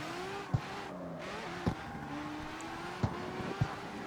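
A Mazda RX-7 drifts at night in the street racing game CarX Street, its engine droning steadily with pitch sweeps and a few sharp thumps from shifts or bumps, loud and close with no talking.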